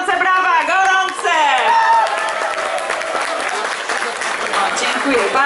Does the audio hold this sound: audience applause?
yes